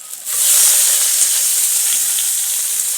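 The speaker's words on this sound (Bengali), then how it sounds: "আদা বাটা দেওয়ার পরে বেশ কিছুক্ষণ কষিয়ে নিয়েছি। এবার দিয়ে দেবো কাঁচা লঙ্কা," Green chillies drop into a pan of sizzling ginger paste while dal is being cooked, setting off a loud, steady hiss that swells after a quiet start and holds close and constant, with no talking.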